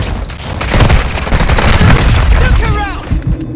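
A grenade explosion in the Call of Duty game, a loud booming blast with rumbling gunfire-like crackle, heavy for a couple of seconds before fading under game voice chatter.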